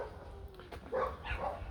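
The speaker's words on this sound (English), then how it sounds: "I try to speak normally, and I get interrupted by dogs." Dogs bark a few times nearby on a woodland walk, short muffled yips and barks over steady low background rumble.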